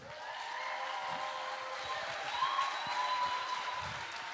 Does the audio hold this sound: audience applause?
yes